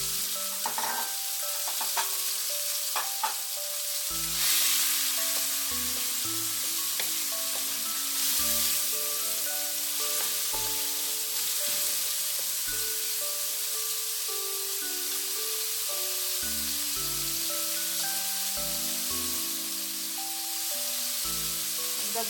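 Ground pork and tomato fry together in a pan, giving a loud, continuous close-up sizzle with occasional stirring scrapes and clinks of a utensil throughout.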